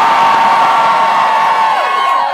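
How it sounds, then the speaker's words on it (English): Concert crowd at a gig in a small venue cheers and whoops loudly, a dense sustained roar of many voices lasting a couple of seconds. "can you make some noise?"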